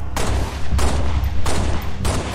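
Magnum pistol and assault rifle fire in the shooter Halo Reach, heavy broadband gunfire bursts at about 0.75-second intervals, loud and close, with no talking.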